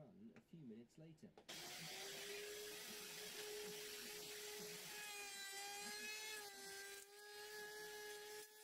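A Mafell milling motor router cuts with a guided rebating bit. After a few spoken words it starts up, then holds a loud steady high whine that shifts pitch slightly as the bit works through the cut.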